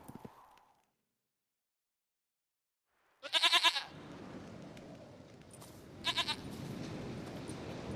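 A goat bleats twice in The Witcher 3, each call a short wavering bray from close by, set against a soft outdoor ambience after a moment of silence.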